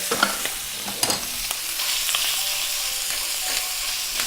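Sausage browns in a hot pan with a steady, close sizzle, while a utensil scrapes and taps through it in a few sharp stirring knocks.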